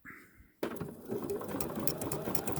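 A sewing machine runs a decorative petal-shaped stitch, starting abruptly after a brief quiet moment and then whirring steadily and close, with fast rhythmic needle clatter for the rest of the time.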